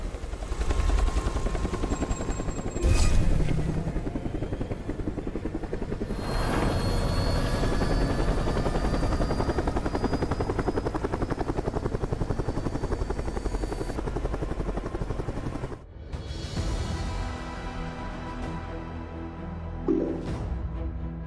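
A video game helicopter comes in to land, its rotor drone loud and continuous with mechanical whine, a sharp burst near the start, before the noise cuts off and a quieter hum with a brief knock lingers.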